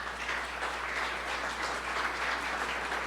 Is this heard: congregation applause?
yes